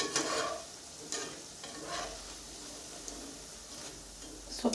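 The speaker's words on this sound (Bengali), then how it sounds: "এখন আমি লাড়বো না, ভেজে দেখাচ্ছি।" Cauliflower pakoras fry in hot oil, giving a quiet, steady sizzle with occasional soft clicks and stirring scrapes, faint and close.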